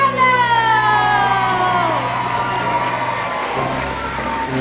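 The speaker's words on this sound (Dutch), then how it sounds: "Met heel erg groot applaus voor Tipi Pablo." A large crowd at a Sinterklaas family stage show applauds and cheers for Party Piet Pablo, loud continuous clapping under sustained musical tones and an announcer's fading voice.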